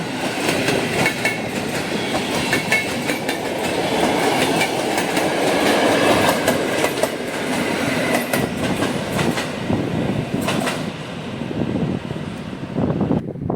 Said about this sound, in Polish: przelotem przez peron trzeci EP09 z Intercity